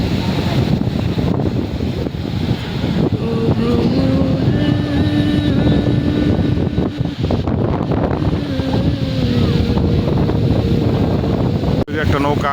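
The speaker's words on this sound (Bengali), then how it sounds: "একটা নৌকা মাছ ধরার উদ্দেশ্যে রওনা দিল সমুদ্রের দিকে, গভীর সমুদ্রে চলে যাবে" A small fishing boat heads out to sea off Kuakata beach in Bangladesh, its engine droning steadily at a distance beneath heavy wind buffeting the microphone, while a voice talks throughout.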